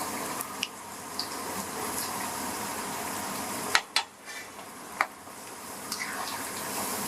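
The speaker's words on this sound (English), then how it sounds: "we'll put them once again and let them fry for another 2 minutes" Spinach pakoras sizzle in hot oil with a steady, soft crackling hiss, broken by a few sharp clinks and scrapes of a utensil against the pan, heard close up and fairly quiet with no talking.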